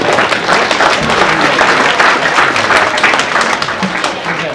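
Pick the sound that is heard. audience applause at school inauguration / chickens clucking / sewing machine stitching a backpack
audience applause at school inauguration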